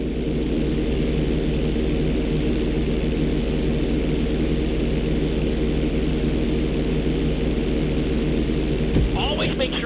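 Steady propeller airplane engine drone from a light aircraft in the Grand Theft Auto 5 flight school mission, a constant loud hum with harmonic tones running throughout and a brief swell of a second sound near the end.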